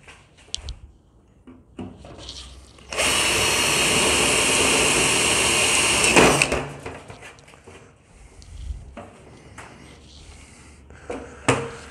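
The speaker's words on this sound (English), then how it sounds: "I'll use that as my template for drilling through the holes into the chassis." A loud, steady high-pitched whine of a power drill boring holes into a GT40 replica car chassis runs for about three seconds, surrounded by scattered clunks and handling noises.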